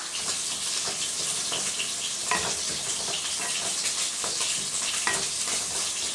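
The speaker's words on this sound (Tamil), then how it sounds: "இந்த எண்ணெயிலேயே ஒரு 2 இல்லைன்னா 3 நிமிஷத்துக்கு நல்லா வதக்கிடலாம்" Masala spices with rock salt sautéing in oil for a fish curry, giving a steady, close sizzle and fry with occasional spoon stirs and scrapes, no voices.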